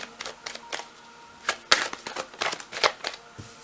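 Tarot cards shuffled and drawn by hand, a run of quiet crisp flicks and slaps with a few sharper snaps in an irregular rhythm, close and soft, with no talk.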